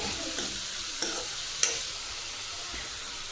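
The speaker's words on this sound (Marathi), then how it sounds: "आता हे 2 मिनिटं आपण कांद्याची पात परतून घेऊ" Chopped spring onion greens sautéing in oil with cumin and mustard seeds, a soft steady sizzle with a few sharp stirring scrapes in a pan, close and fairly quiet.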